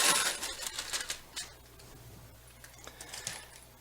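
A plastic bag of drywall screws handled up close, quiet clicking and rattling of metal screws shifting, busiest at the start then tapering to sparse ticks.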